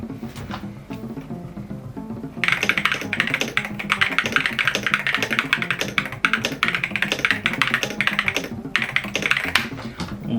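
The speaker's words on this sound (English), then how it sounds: "Got the new switches in there too, so we're about to do a typing test." Rapid, steady keystrokes clatter on a budget custom mechanical keyboard fitted with new switches, close and loud with a dense rhythm of taps that briefly pauses and resumes.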